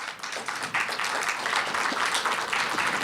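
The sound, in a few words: audience applause at a town hall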